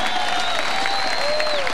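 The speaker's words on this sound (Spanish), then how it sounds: "Regalémosle un aplauso para que siga su camino." A concert crowd at a big band tribute applauds, a brief, dense wash of clapping heard up close, with a sustained whistle-like tone cutting through above it.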